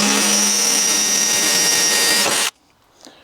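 Power drill boring the last hole through metal for a strut lift on a Daihatsu Hijet S510P kei truck, a loud steady whine running about two and a half seconds before cutting off abruptly to near silence.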